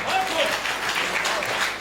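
Listeners at a Hindi poetry recital applaud in a continuous, moderately loud wash of clapping, with a voice faintly audible beneath the crowd.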